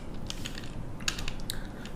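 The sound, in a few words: typing on a computer keyboard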